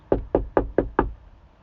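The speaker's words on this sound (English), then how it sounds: "But let's let it knock again." Knocking on a door: five sharp, evenly spaced knocks, close and loud, heard alone.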